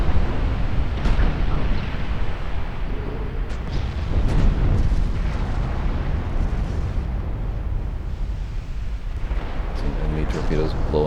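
Torpedoes exploding in the naval warship game Ultimate Admiral: Dreadnoughts, a dense rumbling barrage of booms and blasts rolling continuously, with several sharper bursts standing out over a steady low roar and faint voices underneath.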